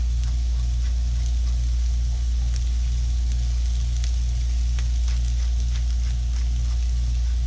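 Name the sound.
seasoned onions sizzling in a pan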